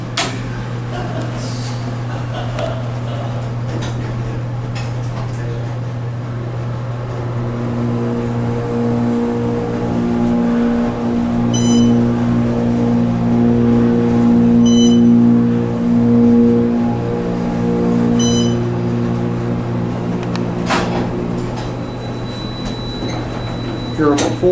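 Otis Series 5 elevator car travelling between floors at a Disney resort, a steady low motor hum and whirring drone from inside the cab, with a few soft electronic chimes as floors pass.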